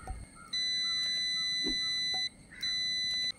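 A multimeter on its continuity setting gives two long, steady high-pitched beeps, the first lasting almost two seconds and the second shorter after a brief gap, clear and close over a quiet room.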